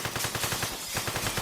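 Rapid automatic gunfire during a video game robbery, a steady stream of evenly spaced shots with a short pause midway, loud and close, with no talking.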